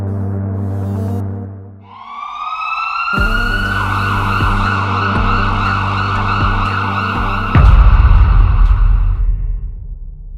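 An ambulance siren wails loudly and close by, its rising and falling tone sustained through most of the stretch with some vehicle noise beneath, after a brief musical opening.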